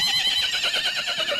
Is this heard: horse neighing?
yes